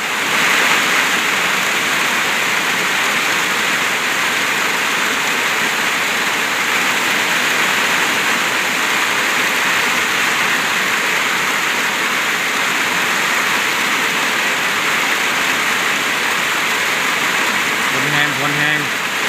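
Heavy rain pours down at a rural house in a dense, constant hiss of water striking surfaces, loud and unbroken throughout, with no clear voices over it.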